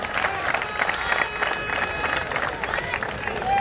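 Spectators at a friendly kabaddi match between two local clubs clap and cheer in a continuous, busy wash of crowd noise while a commentator keeps talking over it.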